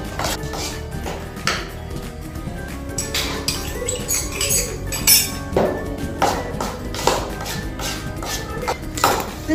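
Butter cookie dough is worked in a bowl with a utensil, giving repeated clinking and knocking against the bowl in an irregular rhythm, close and fairly loud with no talking.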